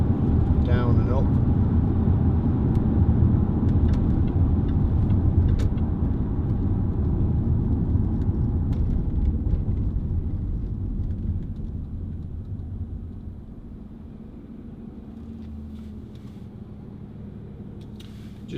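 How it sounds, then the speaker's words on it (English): A 2008 Jaguar XF 2.7 TD diesel saloon on a test drive gives a steady low engine and road rumble from inside the cabin that slowly eases and quietens toward the end. "we're taking it out for a test drive"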